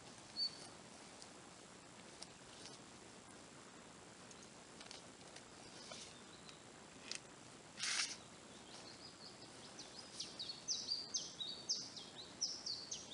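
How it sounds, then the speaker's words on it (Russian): Spring birds in a forest chirp and twitter faintly and intermittently, growing into livelier trilling calls toward the end over quiet background hiss. "Весенние птицы поют"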